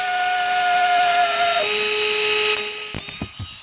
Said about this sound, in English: we'll just take this DC motor. It's out of a drill actually